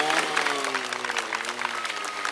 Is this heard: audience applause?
yes